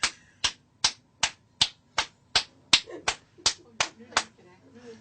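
Sharp hand claps operating a clap-controlled elevator, about a dozen crisp, evenly spaced claps close by, followed by a brief murmur of voices near the end.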